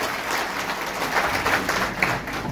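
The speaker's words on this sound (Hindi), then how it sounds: "जोरदार तालियों के साथ उनका स्वागत करिए" Enthusiastic applause from a crowd welcoming an election candidate at a Bareilly traders' gathering, sustained rapid clapping that swells slightly midway and carries on to the end.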